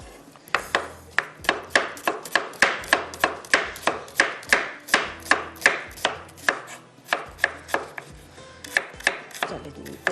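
A knife thinly slicing an onion on a board for aloo ki tahari makes quick, even, close chopping taps. About two dozen crisp strikes come in a steady rhythm, with no talk over them.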